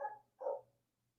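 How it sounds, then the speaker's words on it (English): A dog barks twice in quick succession, a short first bark then a fuller second one, fairly faint and distant in a quiet room with no talking. "Now the dog wants to bark."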